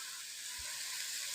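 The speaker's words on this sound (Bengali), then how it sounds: "আলুটা দেওয়ার পরে ভালো করে আবার নাড়াবো।" Potatoes sizzle in a pan over a wood fire, a steady close frying hiss with one soft low thump from stirring, no voices.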